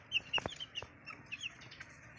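Chicken clucking after laying eggs: soft, quick, repeated clucks and chirps, fairly faint against quiet background noise.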